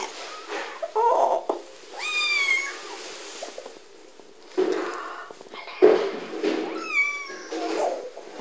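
A cat meows indoors at a London Cats Protection shelter, two drawn-out, rising-and-falling calls several seconds apart, close to the microphone amid soft shuffling and handling noises.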